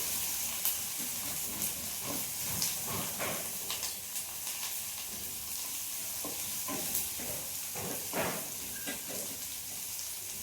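Chopped onion, onion paste and bay leaves fry gently in a pan, a soft continuous sizzle with scattered stirring clicks and scrapes, faint and close, no voices.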